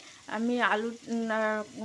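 Diced potatoes fry with spices in a pan over low to medium heat, a soft sizzle running beneath a voice that talks over most of the moment.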